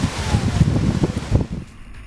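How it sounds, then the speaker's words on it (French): Wind buffets the microphone while riding a Ventys electric scooter, a loud, continuous low rumble with gusty fluctuations that eases off toward the end. "Sur le Ventis, la sonorité du moteur est vraiment très faible et le bruit du vent prédomine."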